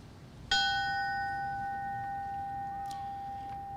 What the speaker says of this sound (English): Ringing the bell will be the Memorial Society on his behalf